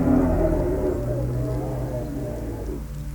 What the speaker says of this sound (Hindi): यह आर्गेंटिनोसोरस की आवाज थी।